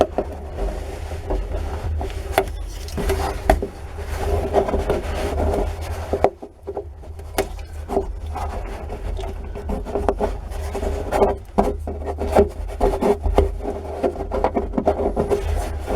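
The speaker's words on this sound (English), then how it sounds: "I'm going to cut around that and remove that excess plastic" Cutting and trimming excess plastic around a drilled hole in a plastic barrel makes a continuous close rasping, rubbing scrape, broken by irregular clicks and a short pause midway, with no talking.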